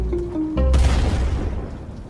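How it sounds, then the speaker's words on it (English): A cannon fires in a Roblox game, a deep, loud boom that cuts in after a short musical tone and rumbles away over the next second. "what are they, firing a cannon?"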